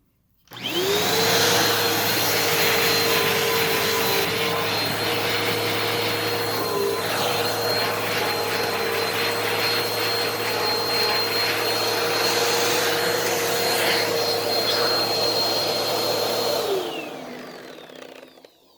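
A Bissell PowerForce Helix Turbo Rewind Pet upright vacuum runs steadily with its dusting brush on upholstery, a loud continuous motor whine and airflow roar holding for about sixteen seconds before winding down.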